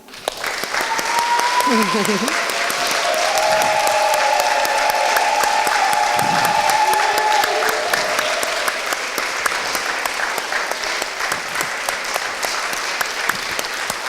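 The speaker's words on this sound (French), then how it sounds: "je propose que l'on fasse un grand applaudissement à Dieu pour Emmanuel" A church congregation at a children's service claps loudly and steadily for about fourteen seconds, with voices mixed into the applause.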